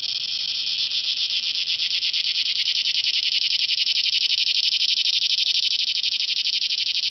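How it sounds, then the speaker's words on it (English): Cicadas on a golf course drone in a steady, shrill, pulsing buzz that holds at an even level throughout, with no voices. "it drowns out the cicada noise"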